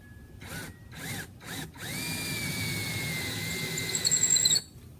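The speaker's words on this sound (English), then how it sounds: "So take your drill, put it in the center," A power drill whirs up through a few short bursts, then runs steadily while boring a hole, its pitch holding and rising slightly before it cuts off abruptly.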